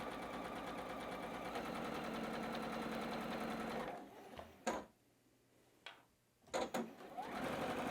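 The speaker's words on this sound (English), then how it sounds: "So just let your sewing machine do all the work." A sewing machine stitches quilt-block fabric in a steady rapid whir, then stops; a few clicks and short bursts follow before the stitching resumes.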